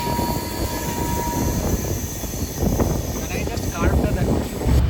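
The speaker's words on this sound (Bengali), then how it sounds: "আমাদের দার্জিলিং মেল ট্রেন নম্বর 12343 এখন আছে বনিডাঙ্গা" At night, the Darjeeling Mail, train 12343, rolls past the Banidanga link cabin with a steady rumble and rattle of carriages, while a voice talks over the moderate train noise.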